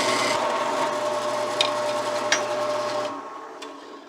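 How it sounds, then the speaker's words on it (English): A 3/8 drill bit boring a hole through steel angle iron, a steady, close grinding whir with a faint tonal hum that runs for about three seconds and then stops. "we're just gonna poke this hole right dead center with a 3/8 drill bit"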